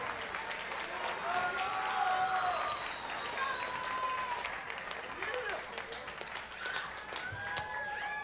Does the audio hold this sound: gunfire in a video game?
no